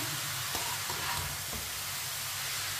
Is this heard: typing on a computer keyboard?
no